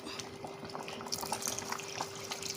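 Soaked tamarind water being poured into a pot of lentil soup, a faint, steady liquid trickle and bubbling heard close by without talk.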